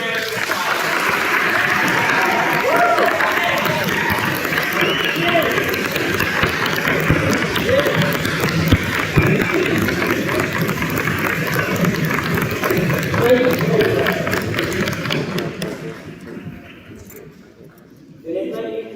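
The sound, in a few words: audience applause for veterans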